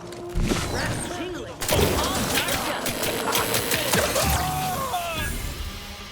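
Shotgun fire in The Outer Worlds 2, a sci-fi shooter game, with loud booming blasts and crashing impacts amid dense combat noise, plus scattered mechanical clanks.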